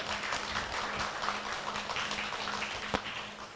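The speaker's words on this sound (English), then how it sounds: "Okay, so let's applaud." A conference audience claps after a forum session on curriculum and teacher development, with a faint, steady patter of applause and one sharper tap near the end.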